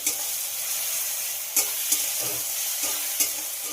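Crushed garlic frying in a pan for a tarka dal, a constant bright sizzle punctuated by several quick spatula scrapes and taps.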